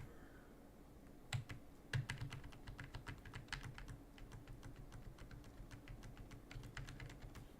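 Fast typing on a computer keyboard, a rapid, irregular stream of light key clicks with a few louder strikes, quiet and close, with no voices.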